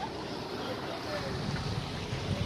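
Yacht out on the sea in a bay at Agadir, with steady broadband wind and wave wash and some low engine or hull rumble throughout, moderately quiet and continuous.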